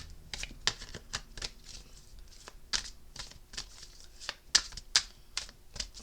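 Tarot cards being shuffled by hand in quick, irregular bursts of crisp riffling and slapping, close and fairly quiet with no talking.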